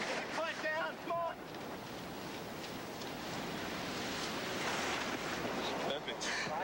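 A race boat speeding through ocean waves, with a sustained roaring rush of water and wind noise throughout and brief voices near the start and end.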